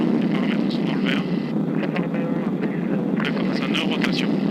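A small propeller plane, a DA20, takes off from Montpellier Méditerranée runway 30 left, its engine droning loudly and steadily, mixed with wind buffeting the microphone and brief bursts of radio chatter.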